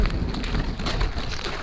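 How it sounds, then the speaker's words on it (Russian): Rain and wind at night on a lake, heard as broad, steady rushing noise with gusty low rumble buffeting the microphone. "Идет дождь, ветер, темно."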